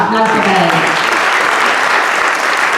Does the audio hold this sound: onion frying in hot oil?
no